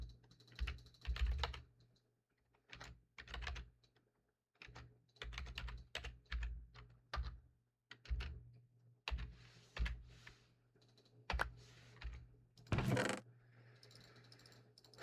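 Rapid bursts of typing on a computer keyboard, clustered clacks in uneven runs with short pauses, fairly close and alone, during a Minecraft Beyblade building session.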